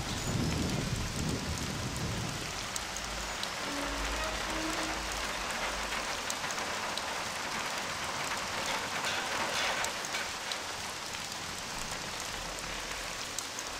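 Steady rain drumming on a roof in the video game Mafia, a constant hiss of drops with occasional low rumbles, no voices.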